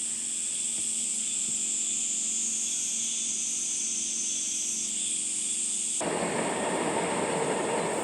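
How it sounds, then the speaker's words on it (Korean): A train rumbles past on the far side of a river in Yeongwol, Gangwon, a distant steady roar joined by a high whine, swelling louder near the end with insects faintly in the background. "강 저편으로 지나가는 기차 소리가"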